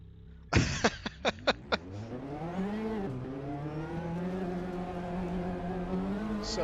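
A race car in the Assetto Corsa sim comes into the pits fast, with a quick series of sharp bursts followed by a steady engine drone that dips and then holds on.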